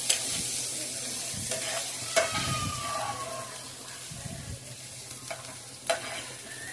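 Food stirred and fried in a pan, a steady sizzle with a ladle scraping and knocking against the metal at irregular intervals, close and moderately loud.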